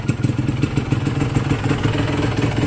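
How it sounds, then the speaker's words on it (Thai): A Honda NSR Pro motorcycle engine idles close by, a steady, rapid chugging putter with a light mechanical clatter. "เครื่องยนต์เงียบกิ๊บครับ"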